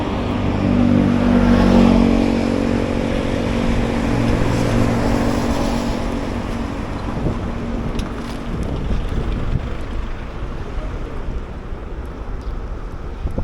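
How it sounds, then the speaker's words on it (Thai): A car pulls out onto a road ahead of an electric scooter rider, its engine rumble swelling early and then easing under constant heavy wind buffeting on the microphone. "รถเขาจะออกนะครับ เขาขอทาง"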